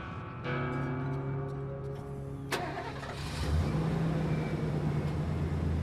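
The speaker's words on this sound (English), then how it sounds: "He let the engine run, he cut the engine off" A truck engine cranks with a whining starter, catches after a couple of seconds, then settles into a steady low idle nearby.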